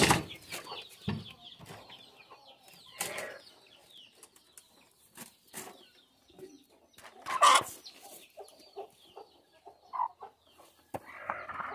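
Hens cluck and murmur in scattered bursts, with an occasional louder squawk and some rustling, close up and without any talking.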